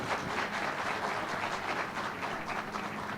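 Audience applause at a literary session, a dense, even wash of clapping sustained from start to finish with no talk over it.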